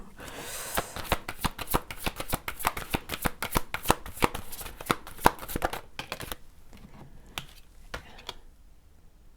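Tarot cards are shuffled and drawn, making a dense run of crisp, rapid card flicks and riffles. The sound thins out into a few sparser snaps and taps near the end. It is close and fairly quiet.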